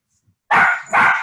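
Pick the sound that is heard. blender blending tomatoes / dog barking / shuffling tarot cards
dog barking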